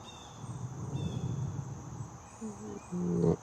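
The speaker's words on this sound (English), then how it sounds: "you might even feel the sound of the bird in your own body" Bird calls outdoors on a yoga field, a few short tonal chirps and whistles over a steady insect-like buzz and soft ambient murmur, mid-distance and fairly quiet.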